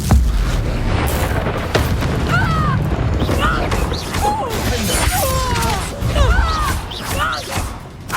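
A Confringo fire spell strikes in Hogwarts Legacy, a loud booming blast followed by crashing, rumbling debris, with game voices and effects layered over it.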